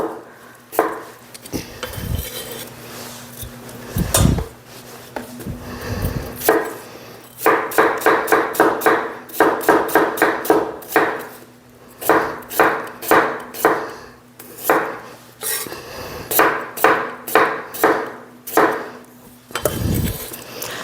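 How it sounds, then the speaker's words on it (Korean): A knife cuts napa cabbage into flat pieces on a cutting board, making bursts of quick, rhythmic chopping taps broken by short pauses and a few heavier thuds, close and clear. "이렇게 납작납작하게 배추도 납작 이렇게 이렇게 납작납작하게 이렇게 썰어서"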